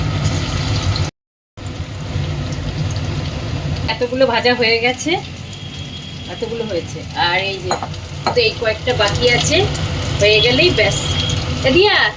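Onion, capsicum and chopped chilli hit hot oil in a pan, setting off a loud, steady sizzle with stirring scrapes. A brief silent gap comes early, and intermittent speech sits over the frying.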